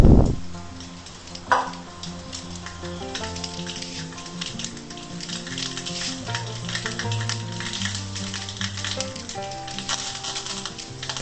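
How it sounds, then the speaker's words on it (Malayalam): Curry leaves and mustard seeds crackle and sizzle in hot coconut oil, with a sharp burst at the start, then steady frying hiss and scattered pops. "കുറച്ച് കറിവേപ്പില അതിനകത്തേക്ക് ഇടണം"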